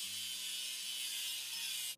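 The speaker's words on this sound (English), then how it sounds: "And now let's grind the seam." A weld seam on a train flat car is ground in a video game, a continuous harsh, hissy grinding rasp that runs steadily for about two seconds and then cuts off abruptly.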